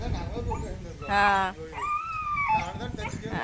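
A dog that fell between two rooftops and is in distress whimpers and yelps in high, wavering cries, loudest in a sustained burst midway, with people talking around it throughout.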